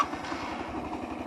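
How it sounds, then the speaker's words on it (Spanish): A motorcycle engine idling steadily after starting, a close, even low rumble with a regular pulsing beat and no voices. "arrancamos la moto"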